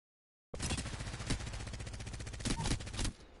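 A continuous burst of rapid automatic fire from a gun in Apex Legends, loud and close, lasting about two and a half seconds before cutting off abruptly.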